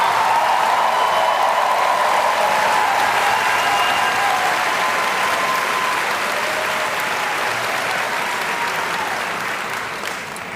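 A large commencement crowd applauds in a broad, continuous wash of clapping that holds steady and loud, then tapers slightly at the close.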